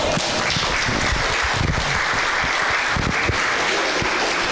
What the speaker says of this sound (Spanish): Denle un fuerte aplauso al Señor en esta hora.